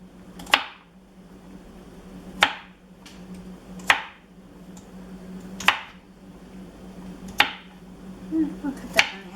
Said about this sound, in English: I'll cut that in half.